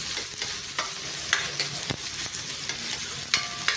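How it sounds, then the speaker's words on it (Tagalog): Onion sautéing for a stir fry of vegetables, with a constant close sizzle broken by repeated sharp scrapes and knocks of a utensil against the pan. "Lagatin yung sibuyas."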